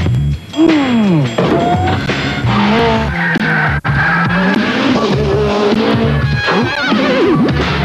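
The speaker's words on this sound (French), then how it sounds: "Un taxi blanc à grande vitesse" A white taxi speeds through a French film trailer with loud car engine roars and sharp tire squeals, mixed with dense music and effects from start to finish.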